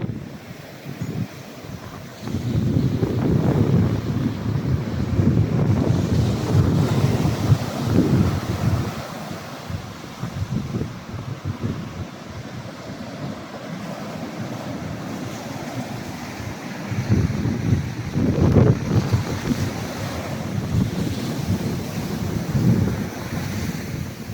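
Ocean surf at Pfeiffer Beach in Big Sur, waves rolling in and washing up in broad swelling rushes that rise and fade, mixed with heavy wind buffeting the microphone, no talking.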